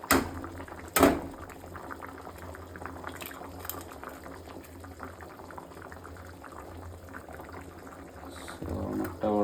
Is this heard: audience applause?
no